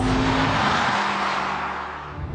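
A BMW M5 driven hard at speed, its engine roaring loud and close with a steady, sustained note that eases slightly toward the end, with no talk over it.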